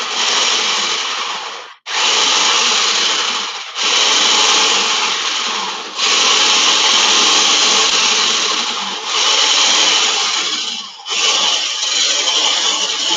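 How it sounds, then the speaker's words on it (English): An electric whisk churns a sweetened raw mixture in a steady, loud buzzing whir that runs in long bursts, cutting out briefly between them as the beaters are stopped and restarted. "we're gonna take my electric whisk, and then we're gonna whisk that up"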